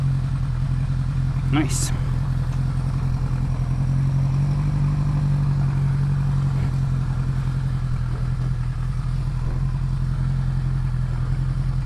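A Honda CB550 motorcycle engine idles steadily and close, with a low continuous hum and a brief sharp click near the start, while someone speaks briefly.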